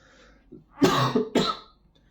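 A person coughs twice in quick succession, close and fairly loud, after a small throat clear.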